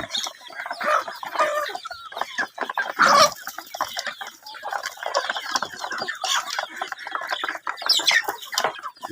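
Chickens cluck and call in a dense flock while being fed in the evening, with busy overlapping clucks near and far and a louder burst of squawking partway through.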